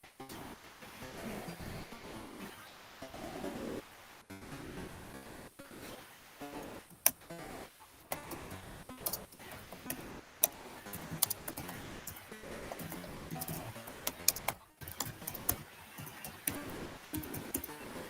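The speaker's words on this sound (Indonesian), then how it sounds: "Keyboard sampai bunyi-bunyi sampai di sini nih." Fast typing on a computer keyboard, a rapid stream of sharp, irregular clicks and taps, fairly quiet and close, with no voices.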